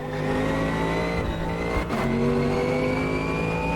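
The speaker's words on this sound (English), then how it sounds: "I love that little pop when I go back on throttle." A GT3 race car in the Automobilista 2 racing game drones with a steady engine note, then a single short exhaust pop cracks out as the throttle comes back on, after which the engine pulls onward loudly.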